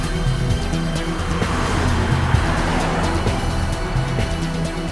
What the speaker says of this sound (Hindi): तेज चलाओ गाड़ी।